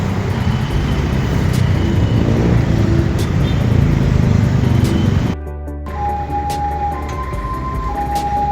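Road traffic streams past a construction site where jeeps are being let through, a loud continuous rumble and wash of engines that drops away abruptly partway, leaving a quieter hum with a faint tonal whine.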